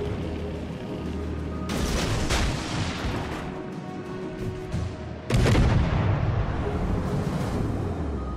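Warship guns fire in the World of Warships: Legends game, with two heavy booming salvos about three and a half seconds apart that roll into a loud, rumbling battle din.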